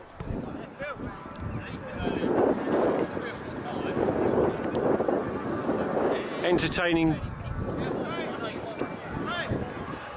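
Strong wind gusts across an exposed football ground on the edge of the Sussex Downs, a loud rumbling buffet on the microphone that runs throughout beneath a commentator's talk.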